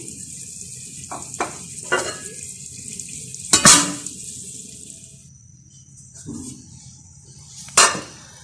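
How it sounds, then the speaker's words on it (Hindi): A lid clanks onto a biryani pot over a steady background sizzle and hiss, with a few close metallic knocks and clatters spaced across the moment and one loud clang standing out. "इसमें जल्दी रंग डालेंगे और इसको अब मैं कवर करके रख दूंगी।"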